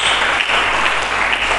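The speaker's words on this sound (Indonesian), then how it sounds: "Mari kita berikan tepuk tangan bagi Yesus Kristus." Church congregation claps for Jesus Christ during a sermon, a brief, dense burst of applause, close and loud, with no voices over it.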